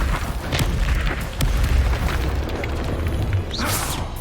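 A Confringo blasting spell detonates in the Hogwarts Legacy game as a loud, close boom with a rumbling burst, followed by further thuds and a sharp whooshing pop near the end, with no speech.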